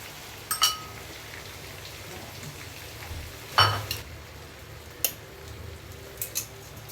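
Chicken pieces go into a pan for creamy pineapple chicken (pininyahang manok) and sizzle as a faint, steady hiss, with a few soft clicks and pops scattered through it.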